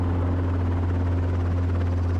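A helicopter's steady, loud rotor and engine drone holds a constant low hum throughout, with no voices.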